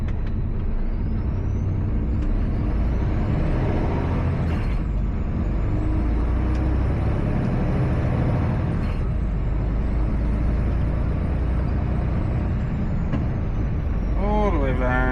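Air brakes on a new Mercedes Actros L truck release in sharp hissing bursts over a steady loud engine and road drone inside the cab, with a person talking throughout.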